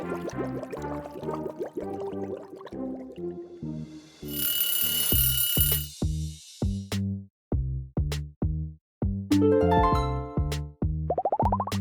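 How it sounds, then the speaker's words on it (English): Alarm clock sounds, both classic and modern, play in turn: bright chiming melodic tones, a burst of metallic bell ringing, then repeated rhythmic electronic beeps, all loud and close with no talking. "Choose your alarm clock, classic or modern."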